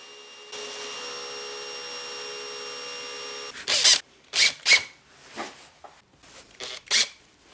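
A table saw running with its blade being raised: a steady, even motor whine for a few seconds, then several loud, short bursts of harsh noise separated by brief gaps, close by and with no talking.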